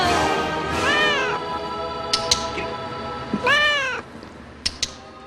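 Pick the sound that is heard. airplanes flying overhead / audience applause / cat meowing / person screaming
cat meowing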